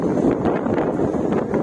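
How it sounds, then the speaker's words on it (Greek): A strong southerly wind blows beside a rough sea on Samos, Greece, in bad weather, producing a dense, loud rushing roar with microphone buffeting and no voices. "με πολύ έντονους ανέμους"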